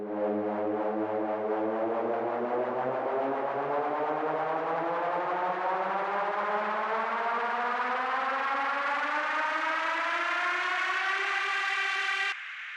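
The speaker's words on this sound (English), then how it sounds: "When you are making risers and sweeps, listen them together and see if they really fit together nicely" A continuous synth riser sweeps steadily upward in pitch for about twelve seconds, rich in harmonics and growing brighter, then cuts off abruptly.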